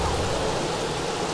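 Steady rain pouring in The Sims 3, a dense even hiss with no breaks, moderately loud and uniform for the whole moment.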